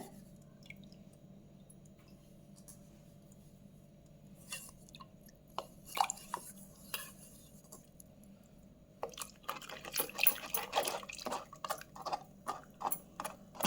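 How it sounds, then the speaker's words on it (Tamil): Dissolved tamarind water is strained for homemade pani puri, with soft, intermittent drips and wet splashes that grow busier and louder toward the end. No one speaks. "நான் அதனால் இதை அப்படியே வடிகட்டிடுறேன்"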